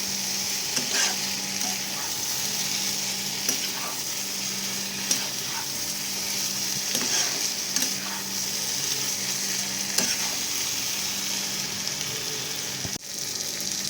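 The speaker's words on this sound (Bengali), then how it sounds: "তখন তার মধ্যে আমি আমার ভেজে রাখা আলু আর পটলটা দিয়ে দেবো ভালো করে সব একসাথে মিক্স করে নেবো" A pan of fried potatoes and pointed gourd is stirred into a vegetarian curry, giving steady scraping and stirring strokes over a constant low sizzle, close and moderately loud, with no talking.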